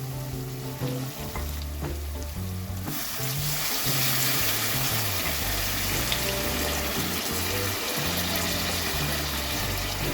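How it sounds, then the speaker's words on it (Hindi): A cup of water poured into hot masala for stuffed eggplant in a pan, sizzling and bubbling steadily and close, with a louder hiss after the pour begins. "अब मैं इस मसाले के अंदर डालूंगी 1 कप पानी ताकि बैंगन पूरी तरह से"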